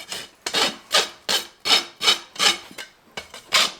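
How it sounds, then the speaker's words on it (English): A farrier's rasp files the top of a horse's hoof at the nail clinches, eight or nine steady rough strokes in an even rhythm, close and fairly loud with no talk. "Come in with our rasp. Rasp the top."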